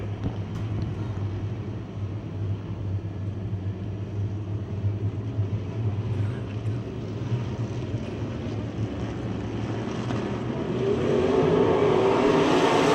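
Race cars lap a speedway on opening night of the season, their engines a steady, continuous roar that stays loud throughout and swells slightly near the end, with no talk over it.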